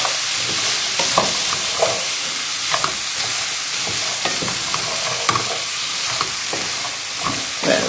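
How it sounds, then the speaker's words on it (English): Ingredients for lentil and bacon soup being stirred in a pot, giving a steady bed of soft sizzling with repeated scraping strokes at an irregular pace, close and fairly loud, with no talking. "give it a little stir just to mix it through"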